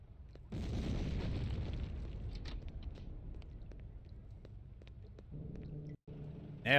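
A bomb goes off in the video game Hitman 2: Silent Assassin with a single loud, deep boom that decays into a long low rumble, followed by quieter game sounds and a brief tone at the end.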